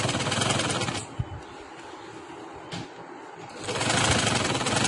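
A sewing machine stitches a girls' short summer frock, its steady motor whir running close and loud in two bursts separated by a quieter pause, with no talking.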